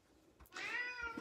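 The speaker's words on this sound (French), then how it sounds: "Ça, c'est Sun. Sun, c'est mon petit mâle bengale qui clairement, est toujours en train de vocaliser" A male Bengal cat gives a single drawn-out meow close by, about a second long and fairly quiet, with no voices.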